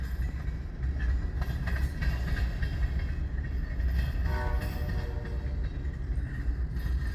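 Missouri Pacific freight cars of a unit train roll past at close range in Fremont, Nebraska, a steady loud rumble and wheel noise with faint tonal squeal throughout and no talk.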